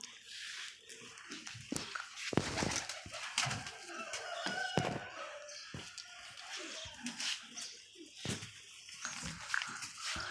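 A pigeon coos in soft, low repeated calls close by, mixed with scattered chirps and rustling of other birds in a busy, noisy background.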